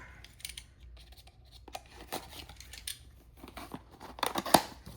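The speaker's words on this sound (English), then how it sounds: "I should have a blade here where I can cut this open." Blade slicing open a taped cardboard package, a run of close scraping and tearing strokes that build to a sharper rip near the end.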